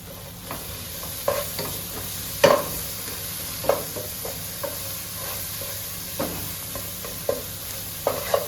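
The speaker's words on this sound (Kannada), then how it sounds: "ಈಗ ಮಸಾಲೆ ಒಳ್ಳೆ ಫ್ರೈ ಆಯಿತು." Masala spices frying in a pan for Hyderabadi-style chicken pulav, a soft continuous sizzle broken by several distinct scraping stirs of a spoon against the pan, close and without talk.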